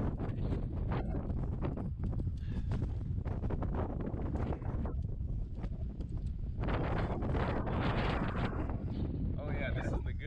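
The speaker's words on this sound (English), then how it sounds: "this section of the wall gets pounded by wind" Strong wind buffeting a climber high on a rock wall on Quartz Mountain, Oklahoma, a loud continuous roar with gusty surges, with faint voices mixed in.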